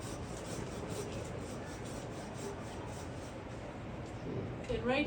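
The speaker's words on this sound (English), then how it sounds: "consciously choosing to use a handsaw, and it'll cut through this wood" A handsaw cuts through a small wooden tree branch at an outdoor tree care demonstration, its quiet rasping back-and-forth strokes coming in an even rhythm, with faint voices in the background.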